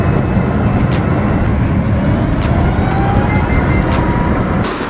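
A WLtoys 184016 budget electric RC car runs on lithium batteries, giving off a loud, continuous motor whir with a thin rapid ticking on top and no break throughout.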